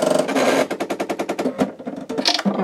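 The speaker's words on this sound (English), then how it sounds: "you're going to hear a little bit of noise for the needle to calibrate itself" Pfaff Creative 4.0 sewing machine needle calibrating at start-up, a rapid mechanical rattling burst of repeated clacks, close and fairly loud, then a brief pause and a few more clicks.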